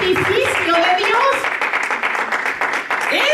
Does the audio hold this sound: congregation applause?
yes